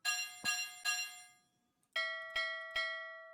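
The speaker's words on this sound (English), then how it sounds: "I like the sound of the bell." A bell in the video game Stormworks rings in two bursts of three clear, resonant strikes, each decaying quickly, separated by a short silence.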